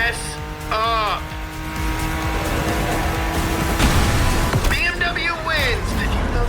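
A BMW M4 races in The Crew Motorfest, its engine note rising and falling through gear changes while tires squeal in sharp bursts near the start and again toward the end, with game voices talking over it.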